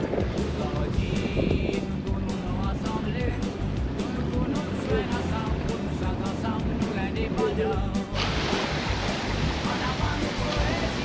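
Waves wash steadily around a sailing yacht on a 22-mile passage between Polynesian atolls, with wind rushing over the water; the noise stays broad and constant throughout, growing brighter and hissier near the end.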